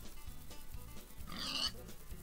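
Pigs oinking in the farming video game Agrar Simulator 2013, a few soft low grunts repeating over faint background sound, with one brighter squeal-like burst, quiet and without talk.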